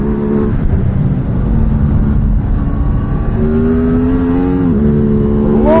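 A car on a Daytona track day, heard from inside at loud, steady engine volume. It revs and climbs in pitch, drops sharply through a quick downshift, then accelerates again.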